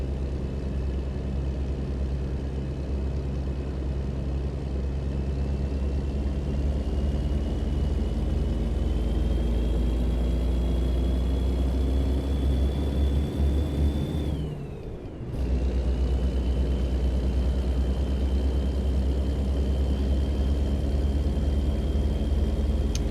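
A truck driving in American Truck Simulator, hauling a scraper, gives a loud, steady engine drone with a slowly rising whine, briefly cut by a sharp drop near the middle before the drone resumes.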